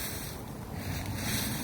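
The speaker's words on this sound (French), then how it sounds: "on a également le bruit du vent." Steady, broad rushing wind with a low rumble, continuous and fairly even throughout, no voices.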